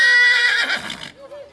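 A pony gives a loud, close whinny at a Hunter Club Poney Elite show jumping prize ceremony, lasting about a second before fading, followed by an announcer speaking over a public address system.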